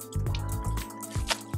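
Water drips and squishes out of rinsed food in a strainer, a close series of wet splatters and trickles in uneven bursts.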